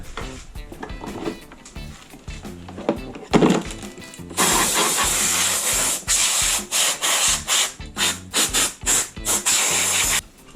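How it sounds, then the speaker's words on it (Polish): Bursts of compressed air hissing loudly in short, repeated blasts as a Ferm rotary hammer drill's case is blown out, with rubbing and handling noises before the spraying starts. "Przedmuchamy walizkę."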